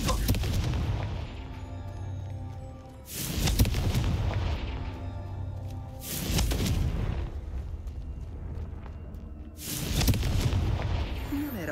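The Confringo fire spell in Hogwarts Legacy blasts off in four heavy, booming explosions spaced a few seconds apart, each with a rumbling tail that fades into a low ambient drone.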